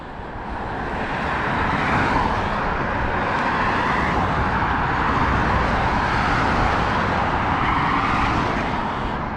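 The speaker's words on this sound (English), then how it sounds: "It is a little bit noisy because of the traffic" Road traffic roars past a cyclist crossing a bridge, a loud, dense, continuous rush of engines and tyres with gentle swells as vehicles go by.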